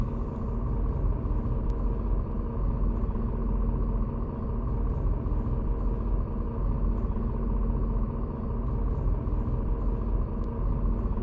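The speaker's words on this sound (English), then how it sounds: "I just noticed that the bus sound was still playing." A bus sound effect runs as a steady, loud engine rumble with a low idling drone throughout, played as background ambience during a tabletop roleplaying game session, with no talking over it.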